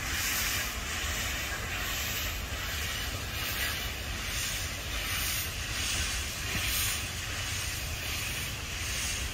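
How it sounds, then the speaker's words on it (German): A steam locomotive on the Harz narrow-gauge railway vents a continuous broad hiss of steam, steady and moderately distant with slight swells, with no talk. "Ein schöner Dampf."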